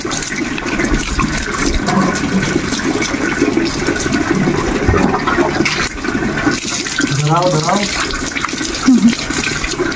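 Water poured steadily during a bath, a constant splashing wash under ongoing talk, with a few brief bursts of other sounds near the end.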